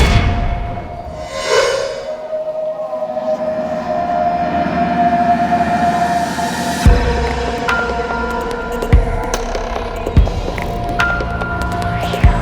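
Railway station platform ambience with a long low hum and whine of a train, metallic clanks and thuds from rolling stock, and a brief rising tone early on, busy and continuous.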